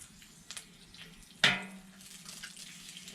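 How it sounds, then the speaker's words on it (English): Eggs cracked into molds on a Blackstone griddle, giving a brief loud crackling sizzle burst partway through amid faint kitchen noise, then settling into a soft steady frying hiss. "Listen to them sizzle already."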